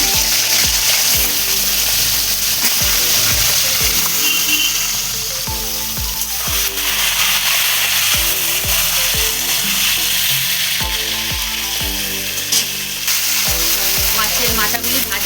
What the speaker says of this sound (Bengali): মাথাগুলি ভাজা হোক।